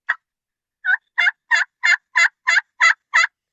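A single short note, a pause, then a rhythmic series of eight evenly spaced wild turkey yelps, clear and close, likely from a call imitating a hen.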